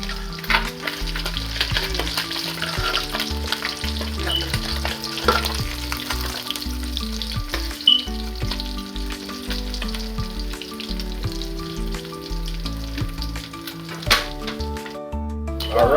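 Fish fries in hot oil, a dense continuous sizzle with frequent pops and crackles and occasional utensil clicks, close and steady throughout.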